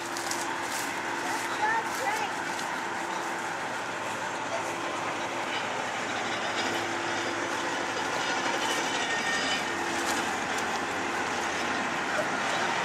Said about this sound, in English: That's a big old train.